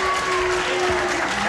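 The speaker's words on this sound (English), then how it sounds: "I'd like applause for a girl" A game-show studio audience claps steadily in dense, continuous applause, with a faint sustained tone running underneath.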